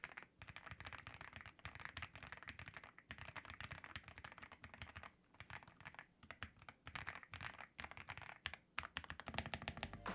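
Fast, continuous clacking of an Epomaker Shadow-S mechanical gaming keyboard being typed on up close, dense and steady with no voices.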